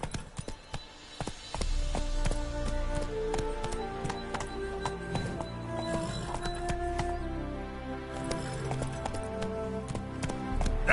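The horse Roach gallops in a video game with rapid, rhythmic hoofbeats, set over a layered game music score and ambient effects at moderate loudness.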